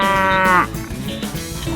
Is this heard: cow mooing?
yes